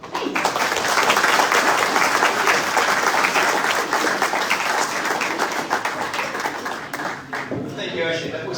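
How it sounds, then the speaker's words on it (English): Audience applause following a blood bank presentation, dense continuous clapping from a roomful of people, close and loud, tapering slightly near the end. "I get a big round of applause for Ashley"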